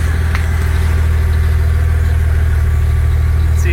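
A car engine idles through a newly fitted exhaust, a loud, steady low rumble with an even pulsing throb that holds constant throughout, with no voices.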